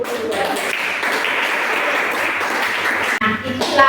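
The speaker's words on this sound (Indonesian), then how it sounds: "tepuk tangan buat ibu" Steady applause from a classroom of students for their teacher, dense clapping throughout that cuts off abruptly near the end, followed by a brief voice.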